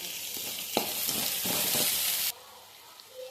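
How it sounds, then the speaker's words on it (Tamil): Ginger, garlic and tomato hit hot oil in a pan with a loud, bright hiss and a few stirring knocks, then the sizzle drops away abruptly to a quiet background. "இது கூட கொஞ்சமாக தக்காளி சேர்த்துக்கணும் சேர்த்து இதையும் நல்லா வணக்கிடலாம்"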